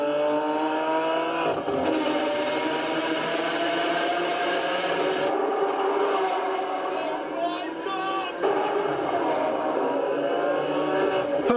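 Electric supercar driving past with a steady high whine and layered tonal hum, continuous and fairly loud over about eleven seconds, with occasional scraping and tire noise and no engine roar.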